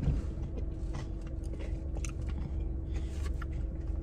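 Someone eats a Culver's waffle cone with ice cream, with close, steady chewing and small crunches under a constant low rumble like a car interior, and no talking.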